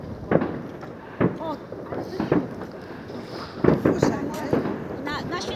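Fireworks go off far away on New Year's Eve, heard as a series of scattered, muffled bangs with some crackle. Wind buffets the microphone, and people talk now and then between the bursts.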